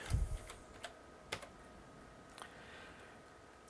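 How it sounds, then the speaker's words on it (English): Text being typed on a computer keyboard in an image-editing program: a few faint, scattered keystroke clicks over a quiet background, close to the listener. "I'll select a point to enter my text, and then I will type some text"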